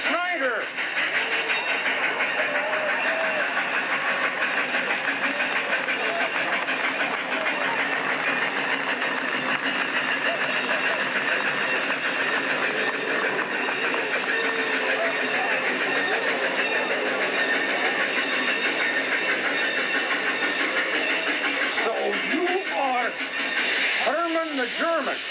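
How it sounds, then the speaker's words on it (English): Train pulling into Snyder, Nebraska, rumbles steadily for about 25 seconds at a loud, close level, with faint clattering and a voice talking over it near the end. "The train is coming to Snyder."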